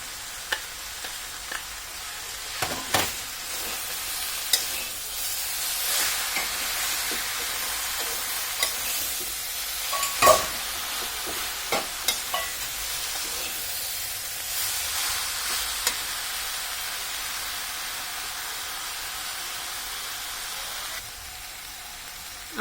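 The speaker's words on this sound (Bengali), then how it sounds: "আমাদের চিনি আর গুড় প্রায় গলে আসছে। এখন ভালোভাবে নাড়াচাড়ার মধ্যে থাকতে হবে" Sugar and jaggery melt in a pan for chalta pickle while being stirred, giving a soft continuous sizzle and hiss broken by scattered scrapes and clicks of the spoon against the pan.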